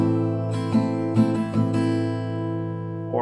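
An acoustic guitar is strummed openly in a down-up pattern without muting, several ringing chord strokes sustaining together and fading slightly at the end, close and clear with no voices.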